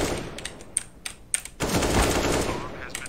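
Gunshots in Counter-Strike on the Dust2 map: several sharp shots crack out in quick succession, then a denser burst of rapid fire follows over the background noise, fairly close.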